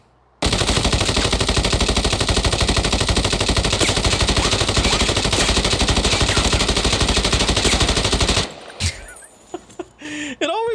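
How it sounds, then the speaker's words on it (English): An RPD light machine gun in Arena Breakout fires one long continuous burst for about eight seconds, loud and close with a fast steady rhythm, then stops abruptly and leaves scattered clinks and faint rattles. "we're gonna fire this gun off, no recoil control. We're also gonna get to listen to how the gun sounds"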